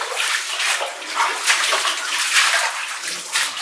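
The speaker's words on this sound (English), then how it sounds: "More water there, wraps back through there." Water flows through the tunnels of an abandoned mine, a close, continuous splashing rush with uneven surges, heard alone.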